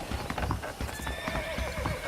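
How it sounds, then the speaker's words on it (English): Saddled horses in Red Dead Redemption, steady clip-clop of hooves on the ground with a horse's whinny over it, fairly close and continuous. "The horses are saddled up over here."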